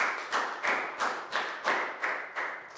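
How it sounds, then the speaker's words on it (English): Small classroom group claps in a slow, regular rhythm, seven or eight distinct sharp claps spaced evenly, fairly faint and without any talking. "Big round of applause for Prel"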